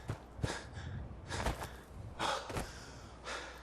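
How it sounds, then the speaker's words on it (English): A Fallout 4 player character breathes heavily, with several loud, ragged inhales and exhales at uneven intervals over a low game backdrop. "Oh, quit your heavy breathing, Nate."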